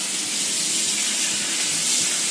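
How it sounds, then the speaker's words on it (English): Water runs steadily from a kitchen tap while a whole chicken is being prepared for cooking, a continuous close hissing splash without pauses. "you turn on the water here"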